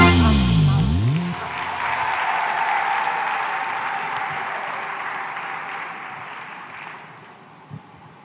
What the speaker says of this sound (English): a big round of applause for Jackson Panduka